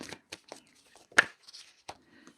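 A deck of tarot cards is shuffled by hand, giving a few soft papery riffles and one sharper snap, close and fairly quiet.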